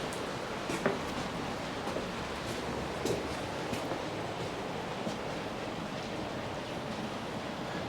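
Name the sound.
rain falling outside a workshop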